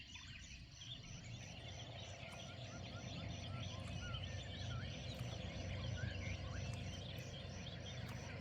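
Domestic fowl calling outdoors in the morning near a riverbank, a dense, continuous chorus of clucks and gobbling cries at moderate distance, steady throughout without speech.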